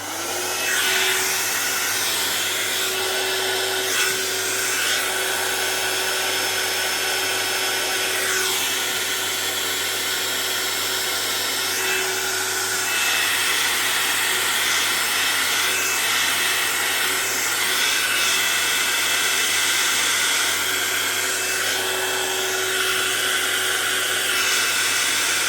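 A handheld air tool blows alcohol ink across yupo paper with a continuous, loud, whooshing hiss that holds steady from start to finish, with slight shifts in intensity as it moves.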